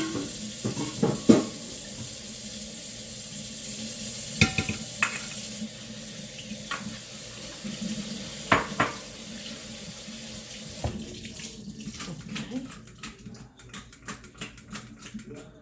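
Tap water runs into a sink while peppers are rinsed, a steady splashing stream with knocks and handling clatter, the flow changing near the end, no talk.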